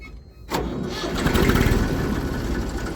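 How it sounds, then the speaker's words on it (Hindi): A tractor engine cranks and catches, then settles into a loud, steady chugging idle close by. "स्टार्ट कर लेते हैं ट्रैक्टर को।"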